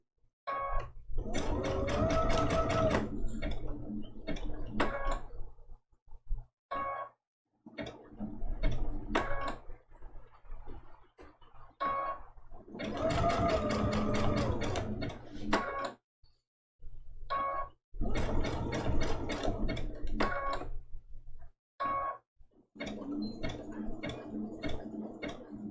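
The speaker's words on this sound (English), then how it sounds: "I'm just going to pivot, and we'll stitch all along this outside piece." A sewing machine stitching a raw edge appliqué Christmas ornament trivet quilt runs in several long bursts, loud and close, with short pauses between runs and no voices.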